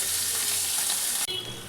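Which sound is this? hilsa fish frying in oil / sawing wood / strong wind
hilsa fish frying in oil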